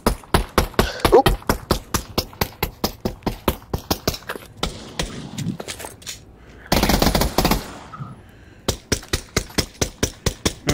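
Submachine gun fire in the VR shooter Pavlov VR: rapid, sharp, evenly spaced shots in sustained bursts, loud and close, with a short break midway before the firing resumes.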